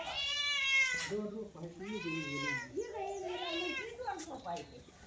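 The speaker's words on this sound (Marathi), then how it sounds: "ही मांजर अशी आरडते ती बिनकामीच" A cat yowls close by, three long drawn-out wailing cries one after another with short breaks between them.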